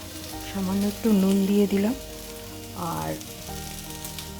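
Green tomatoes frying and being stirred in a pan, a steady close sizzle broken by stirring scrapes, with a voice talking in Bengali over part of it.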